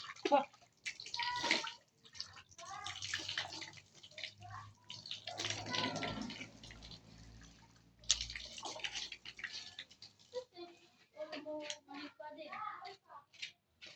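Water splashing and running into a basin while hands scoop it, giving broadband hiss and splatter bursts, close by and fairly soft, with someone talking on and off between the splashes.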